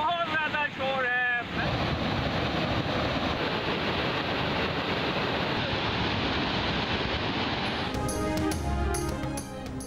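Loud, steady roar of floodwater pouring over an overflowing reservoir on the Malir river in Karachi after heavy rains, a dense continuous rush filling the scene, with a brief voice near the start and scattered clatter toward the end.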